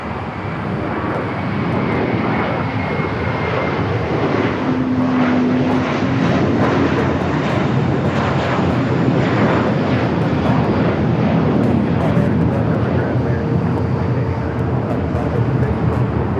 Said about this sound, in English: JetBlue A321 and now rolling down at 25 right.